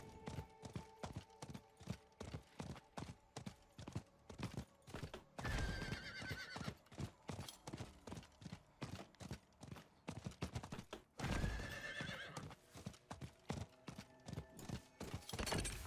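Horse hooves clip-clop in a steady, rapid rhythm as a mount is ridden in Diablo 4, with two loud neighs breaking through around the middle and near the end.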